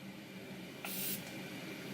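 A single short burst of makeup setting mist sprayed from a pump bottle, a fine airy hiss lasting about a third of a second against quiet room background.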